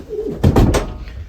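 Male pigeons in a loft after bathing, with a short burst of close, fluttering wing and coo sounds over a quiet room tone.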